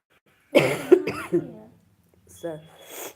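Several close, harsh coughs in a quick burst, then a short pause and a couple more raspy coughs.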